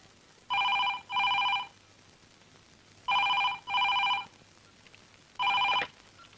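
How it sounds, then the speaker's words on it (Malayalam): A telephone in a newsroom rings with a classic double-ring pattern, two short bell bursts repeated twice and a fifth ring starting, clear and moderately loud over a quiet room. "അനന്തു, ഫോൺ."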